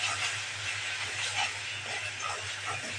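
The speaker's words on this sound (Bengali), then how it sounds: "এখন মশলাগুলো সুন্দর মতো কষিয়ে নেব।" Ground garlic, cumin and ginger paste fry in oil for beef liver, giving a soft, continuous sizzling hiss with a low steady hum beneath it, fairly faint and without talk.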